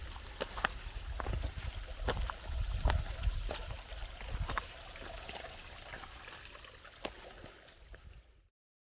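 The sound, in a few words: small waterfall on the Loyalsock Trail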